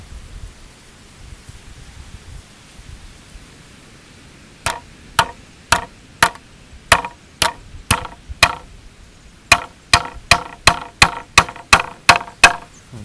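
A hammer drives a nail into a bamboo pole in a series of about fifteen sharp, evenly paced knocks, close and loud, after a quiet stretch, with a short pause midway through the strikes.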